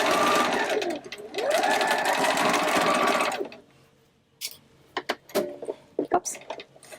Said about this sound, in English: I want to make sure that I sew over where that other seam ended.